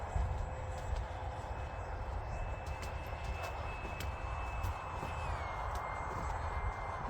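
A HobbyKing Durafly Vampire RC model jet flies and turns, its faint, distant motor whine holding a steady pitch before sliding lower partway through, set against quiet background hiss.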